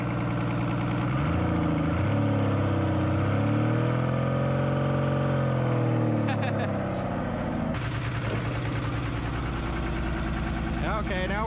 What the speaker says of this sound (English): Let me rev it for you with the exhaust.